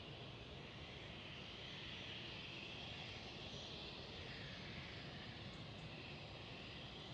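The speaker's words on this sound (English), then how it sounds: "It is a KLM City Hopper, and it is an E190." KLM Cityhopper Embraer E190 jet at Schiphol, Amsterdam, a faint, distant, steady engine rush with a hissy upper whine, continuous and without voices.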